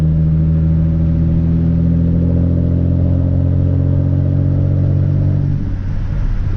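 A Hyundai Genesis Coupe engine pulls at about one-third throttle in drive, with a loud, steady droning rise that eases off near the end.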